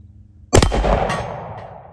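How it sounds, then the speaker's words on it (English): A 6.5 Creedmoor rifle shot strikes a half-inch steel target: one sudden loud crack with a sharp metallic impact, then a ringing, echoing decay that fades over about a second and a half, with no talking. "we were just shooting at 1/2-inch steel"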